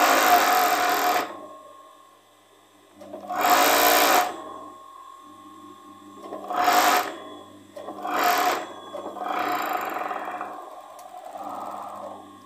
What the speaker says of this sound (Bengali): এরপর এইভাবে ধরে সেলাই দেবেন